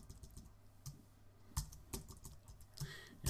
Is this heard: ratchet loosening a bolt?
no